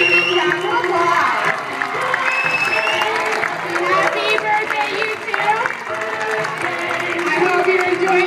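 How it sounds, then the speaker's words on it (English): Crowd applause and cheering for two birthdays in the Coliseum, a large, busy mix of clapping and crowd noise with tonal chatter and shouts running through it at a steady level. "let's give them a big round of applause."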